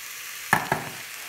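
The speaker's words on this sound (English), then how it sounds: "straight into there, we are going to add our onions" Onions tipped with spices into a hot slow cooker for an Indian dish give two quick close thuds, then a soft hiss that fades.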